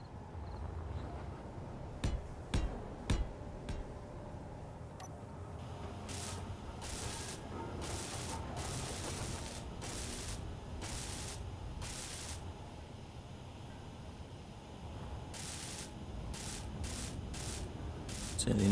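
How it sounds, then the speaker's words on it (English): Steady rain falls in the Space Engineers game world, a continuous broadband patter and hiss running through the whole stretch, punctuated by brief bursts of louder spray-like noise and a few sharp ticks. "Has started raining, as you can tell"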